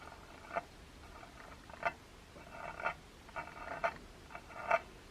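Faint scratchy rubbing bursts, about six irregular swipes of a finger dragged across the needle of a clockwork 78 gramophone, soft and close with no speech.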